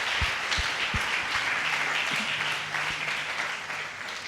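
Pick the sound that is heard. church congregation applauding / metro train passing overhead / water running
church congregation applauding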